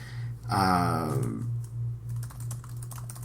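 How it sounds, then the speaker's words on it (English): Rapid, irregular keyboard clicks tapping away close by, following a brief harmonic tone at the start, with a steady low hum underneath. "you can hear me typing"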